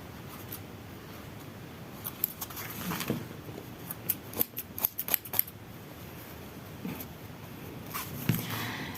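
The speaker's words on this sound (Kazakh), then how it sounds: "артық жіптерін соларын бастарын бит-бит қиып жібереміз" Scissors snip loose excess threads off a freshly sewn fabric table-setting cover, quick close clicks in a cluster of small cuts amid quiet room tone.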